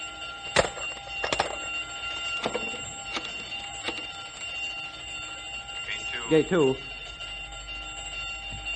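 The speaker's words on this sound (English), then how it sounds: "The alarm means that whatever's escaped is now out of the building and onto the grounds." An alarm bell rings in a radio drama as an escaped creature gets onto the grounds, sounding repeatedly in bursts under a voice giving orders.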